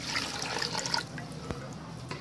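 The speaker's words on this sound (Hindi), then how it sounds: "3 ग्लास मैं इसमें पानी डाल दूंगी।" Water is poured into a cooking pot during beef boti kabab preparation, a short splashing flow that eases off after the first second, leaving faint kitchen noise.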